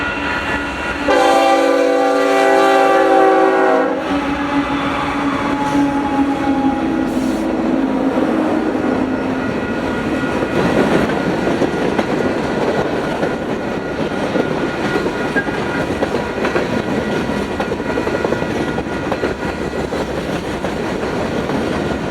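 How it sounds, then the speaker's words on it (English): A Union Pacific freight train, Utah 5004, rolls past loud and close: a horn blast opens, then a long steady roar of wheels and cars fills the rest with no talking. "10 minutes after setting up, the train rolled on through."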